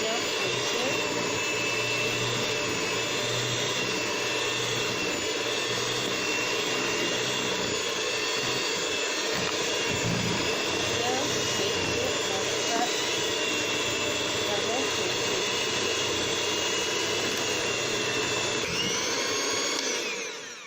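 Electric whisk whipping shea butter into a thick cream, a loud continuous motor whine lasting the whole stretch with a steady buzzing drone, which cuts off near the end.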